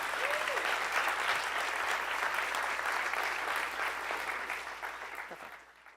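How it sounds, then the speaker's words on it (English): Welcoming applause greets a keynote speaker at a business pitch event, a broad, even wash of many hands clapping that holds steady and then fades out near the end. "thank you for the welcoming applause"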